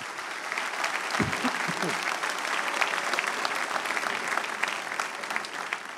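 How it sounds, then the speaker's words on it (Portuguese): A church congregation applauds loudly and steadily, a dense roar of clapping hands lasting throughout, with a brief voice or shout near the start. "Aplaudir, aplauda forte."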